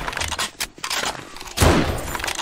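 Gunfire in 7 Days to Die, Alpha 18, during a fight with a feral zombie: a few sharp, close shots, with a short crack early on and a heavier, louder blast about a second later.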